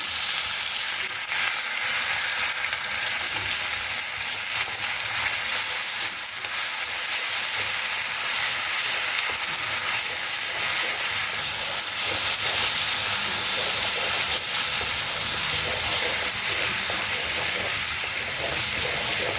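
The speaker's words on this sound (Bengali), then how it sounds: "তেলটা গরম হয়ে গেছে, এর মধ্যে আমি আদা রসুন কুচো দিয়ে দিচ্ছি।" Chopped ginger and garlic frying in hot white cooking oil, a steady loud sizzle and hiss close by that continues without a break, with faint stirring.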